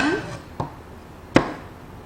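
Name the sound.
knife cutting chestnuts into pieces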